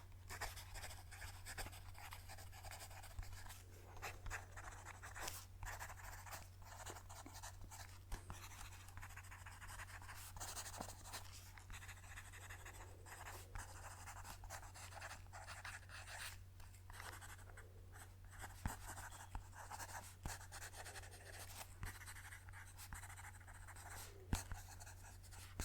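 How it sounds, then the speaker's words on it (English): Pencil writing on paper, a steady soft scratchy texture running continuously with small irregular strokes, close up and quiet over a low steady hum, no talking. "I love when people write with pencil."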